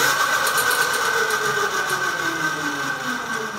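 A 1000W QS hub motor spins the lifted rear wheel of a homemade 72V electric pipe bike low rider, giving a steady whining hum with a high tonal whine and mechanical whir, close and continuous, no voices.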